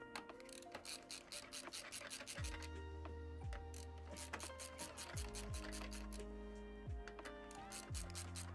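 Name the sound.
tightening screws in a PC case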